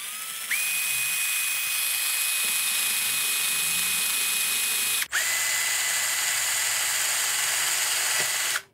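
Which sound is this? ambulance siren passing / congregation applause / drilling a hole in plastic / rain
drilling a hole in plastic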